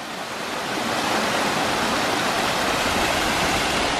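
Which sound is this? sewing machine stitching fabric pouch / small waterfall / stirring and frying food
small waterfall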